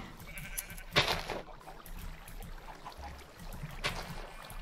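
Sheep in the Minecraft video game bleat twice, a sharp call near the start and another later, over a soft, steady game ambience.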